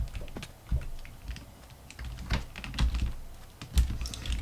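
Irregular clacking keystrokes on a computer keyboard during a Survival Games match, close and moderately loud, with uneven bursts and short pauses between presses and no speech.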